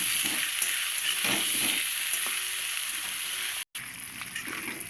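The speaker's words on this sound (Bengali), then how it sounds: "একটু হলুদ গুঁড়ো দিয়ে এই আলুটাকে সুন্দর করে লাল লাল করে ভেজে নেব" Potatoes frying in a pan with salt and turmeric, making a steady close sizzle with soft stirring scrapes, broken by a brief cut near the end, and no talking.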